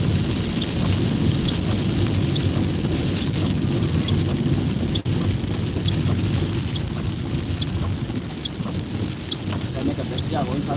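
Steady rain falls in Kenya with a dense, even hiss and patter throughout, while low thunder rumbles underneath, loud and enveloping.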